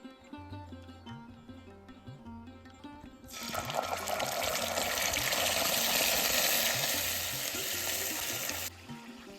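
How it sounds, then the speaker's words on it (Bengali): Beaten sour yogurt hits hot oil tempered with cumin, dried red chilli and bay leaf in a wok, bursting into a loud, steady sizzle with stirring that runs for several seconds before cutting off, after quieter pan sounds. "এবার টক দইটা ফেটিয়ে কড়াইতে দিয়ে দেব।"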